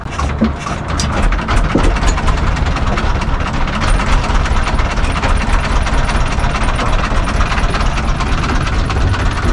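A private boat's engine runs steadily on Kaptai Lake, a loud continuous throbbing drone with rapid rhythmic pulses throughout, no speech over it.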